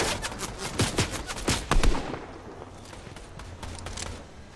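Automatic gunfire rattles in a Fortnite duos match, rapid bursts of shots crackling at close to mid range for about two seconds before trailing off into quieter, sparser distant shots.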